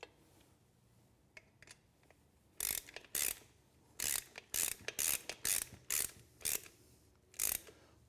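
A hand ratchet snugging down valve cover bolts on an engine, giving a few faint clicks and then bursts of quick, sharp metallic ratcheting in short repeated runs, close and unaccompanied by talk.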